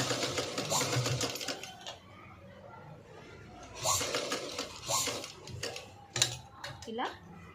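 Sewing machine stitching a blouse in short bursts, close and fairly quiet, mixed with clinks of metal and handling noise between runs.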